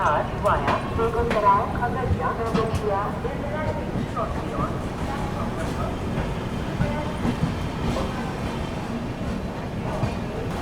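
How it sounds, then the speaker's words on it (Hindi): The Arunachal AC Superfast train pulls out of Barauni Junction in heavy monsoon rain, a steady loud rumble with faint wheel clatter heard from inside the coach, while someone talks throughout. "चलिए निकल गए दोस्तों अपनी ट्रेन जो है बरौनी जंक्शन से"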